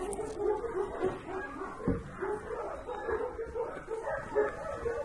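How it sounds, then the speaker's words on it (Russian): A big dog barks and yips in short, uneven bursts at moderate distance, with whimpering tones between barks and faint background noise. "Всех гоняет огромный пес."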